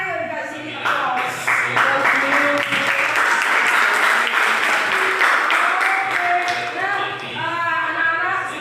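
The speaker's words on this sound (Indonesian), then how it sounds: "Ayo dikasih aplaus." Students in a classroom applaud, a steady, sustained patter of clapping with voices calling out and chattering over it.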